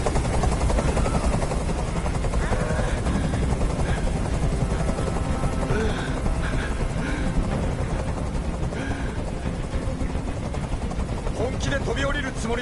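A helicopter hovers in the video game Detroit: Become Human, its steady loud rotor wash filling the scene throughout, with a tense standoff of voices over it.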